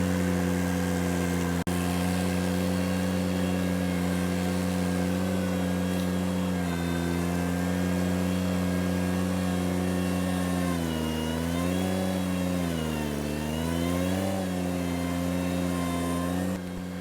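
A compact tractor drones steadily while pulling a power rake over soil, its engine loud and close with a strong tonal hum that dips and rises in pitch as the load changes.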